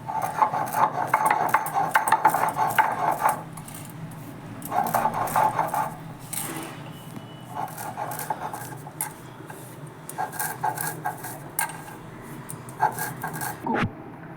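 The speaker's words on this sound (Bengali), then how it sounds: "সর্ষেটা আগে শুকনোই একটু গুঁড়ো করে নেবো আমি তাতে তাড়াতাড়ি বাটা যাবে" Dry mustard seeds are ground on a stone shil, making a steady gritty rasp of stone rubbing on stone in repeated bursts with short pauses, close and fairly loud.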